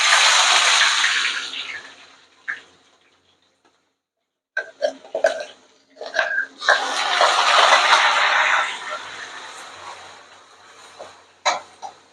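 Onion, garlic and green chili paste hits a hot pan of toasted cumin, bursting into a loud sizzle that fades, then spits and crackles in irregular pops before swelling again into steady frying.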